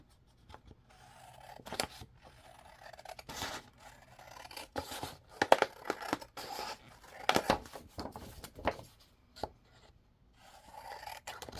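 Quiet snipping and rustling of scissors cutting paper, a series of soft irregular cuts close by with paper crinkling between them.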